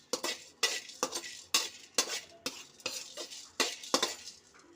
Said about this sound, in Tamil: ஆயில் போடக்கூடாது, வெறும் பாண்டியில் லைட்டாக வதக்கணும்.